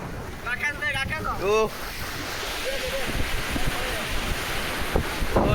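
Sea waves and wind at a beach make a broad rushing wash with microphone wind noise throughout, while people talk and shout loudly at the start.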